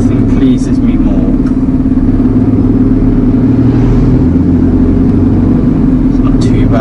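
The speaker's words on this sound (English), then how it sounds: "Love a queue of traffic on a Friday afternoon." Traffic queued on a Friday afternoon gives a loud, constant engine rumble from inside a truck cab, a steady low drone with no pauses.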